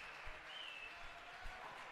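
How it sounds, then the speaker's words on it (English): Spectators applauding at a US Open singles racquetball semifinal, a steady wash of clapping with a few louder bursts, moderately quiet and without talk. "Crowd goes wild."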